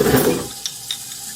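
Garlic sizzles in a hot pan of chicken and vegetable stir fry, a bright steady hiss that swells briefly as it is stirred, with a couple of light utensil clinks against the pan.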